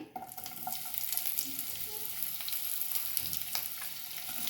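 Onions frying in ghee in a pan, a steady close sizzle with light crackling and faint stirring scrapes running throughout, with no voices.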